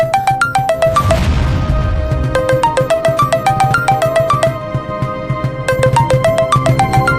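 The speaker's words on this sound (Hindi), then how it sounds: "फोन बजा, चल।" A phone's melodic ringtone plays loud and close, a repeating series of bright electronic notes that runs steadily for several seconds.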